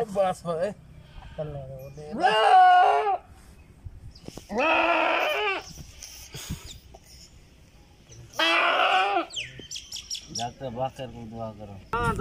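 Goats brought in for castration bleat loudly in several separate cries, some long and wavering, between stretches of quiet, with birds chirping faintly and someone talking in between.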